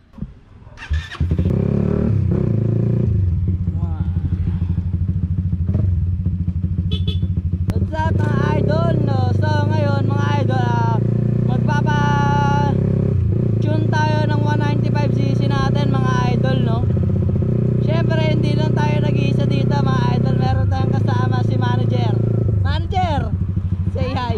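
A Suzuki Raider 150 Fi motorcycle bored up to 195cc idles and revs hard with a loud, raspy exhaust, rising and falling in repeated blips close by, while people talk over it.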